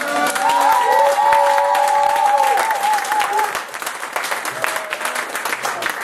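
Church congregation applauding and cheering the Lord during a French-language service, loud sustained clapping with a few whoops and a held musical tone, gradually thinning toward the end.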